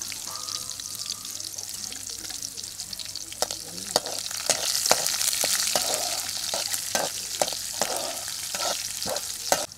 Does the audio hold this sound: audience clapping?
no